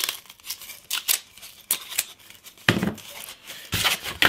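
Masking tape rips off the roll in short, crisp tearing bursts and crinkles as it is wrapped around the end of a tube, heard close up with no talking.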